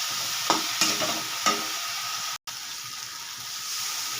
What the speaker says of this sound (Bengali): দিয়ে আবারও একটু নাড়াচাড়া করে আমি জল ঢেলে দেব।